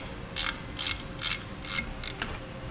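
A 7/32 Allen key snugs down flat bolts on an Air Lift LoadLifter air helper spring assembly for a 2016 GMC Sierra, giving five short, crisp ratcheting bursts close by with brief pauses between them.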